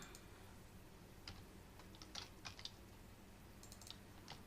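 Code being typed on a computer keyboard, with fairly quiet, irregular key clicks over a steady background hiss and no talking.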